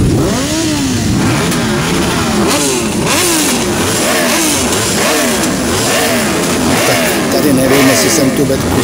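Many motorcycles rev and rumble together at a motorcycle show stop in Brno, a loud, continuous roar with engines rising and falling, some passing close by, while people talk underneath.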